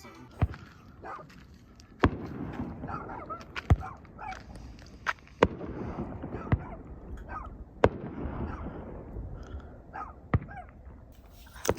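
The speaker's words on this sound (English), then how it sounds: "Someone is setting off fireworks right now" Fireworks go off nearby at a desert campsite by the Salton Sea, a series of sharp cracks and pops spaced a second or two apart over a steady rumbling background.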